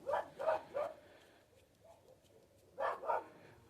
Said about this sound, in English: dogs are off again